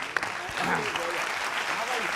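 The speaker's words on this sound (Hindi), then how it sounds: "थोड़ी तालियां दे दो नीर को।" Audience applause at a comedic political talk show, a steady dense wash of clapping from a crowd that rises after a brief pause and holds through, with a voice faintly mixed underneath.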